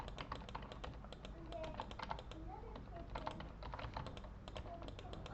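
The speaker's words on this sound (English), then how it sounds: "I'm just typing numbers here." Rapid, uneven keystrokes on a computer keyboard as numbers are entered, a close, steady patter of clicks running throughout with no voice over them.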